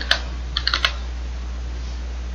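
A computer keyboard during a Linux file-renaming task: a single keystroke followed by a quick burst of four or five light clicks, close and clear over a steady low electrical hum.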